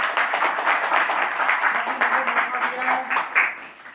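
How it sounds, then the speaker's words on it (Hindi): A crowd claps steadily for a few seconds, a dense, even applause with no voices standing out. "मैं चाहूंगा जोरदार तालियां"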